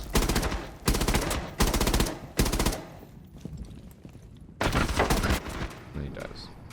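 Bursts of automatic gunfire in a video game shooter, four sharp rapid-fire volleys in quick succession, then a pause with scattered distant shots, and another loud burst near the end.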